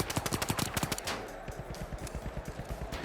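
Rapid automatic gunfire from a shooter video game, THE FINALS, with a dense burst of fast shots followed by a steadier run of repeated rounds over a low rumble.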